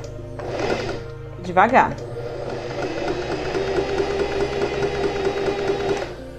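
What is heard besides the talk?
sewing machine running without thread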